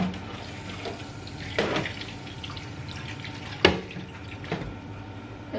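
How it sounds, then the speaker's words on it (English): Water runs and splashes briefly into a cooking pot of cauliflower and broccoli, with a few sharp knocks and clatters of the pot nearby. "I'm just going to add some water to it, and then I'm going to cook it."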